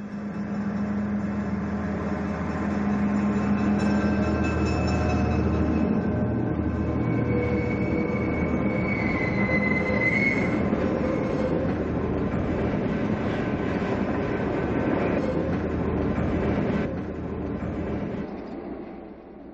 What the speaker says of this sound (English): Near Chicago, Union Pacific combined trains 104 and 108, a through train with the Milwaukee Road,